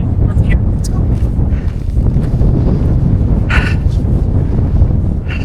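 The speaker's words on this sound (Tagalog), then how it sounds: "Busog ang hangin." Strong wind buffets the microphone at a canyon viewpoint in Kok-Moinok, Kyrgyzstan, a steady broadband roar that runs the whole time, with people talking faintly beneath it.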